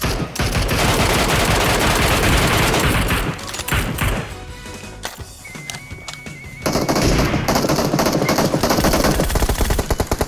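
Heavy automatic gunfire between squads in PUBG Mobile pounds away in loud, sustained bursts, thins into scattered distant shots midway, then surges back to a close, continuous barrage.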